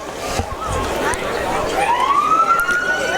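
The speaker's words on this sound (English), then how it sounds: "you can hear the siren coming toward us right now" A Walsh County Sheriff's Department vehicle in the Park River 4th of July parade approaches with its siren. The tone rises and swells in partway through over a noisy background of crowd sound and voices.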